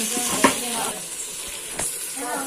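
Onion, tomato and green chili sautéing in a hot pan, with a steady sizzle and two sharp clanks of a spatula against the metal over a short stretch.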